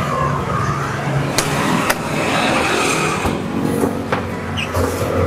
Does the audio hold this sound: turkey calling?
no